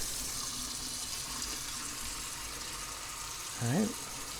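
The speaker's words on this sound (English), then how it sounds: "I'll rinse it with warm water for a couple of minutes." Warm water flows steadily from a kitchen tap while color film is rinsed at home, a constant near splashing hiss, with a brief vocal sound near the end.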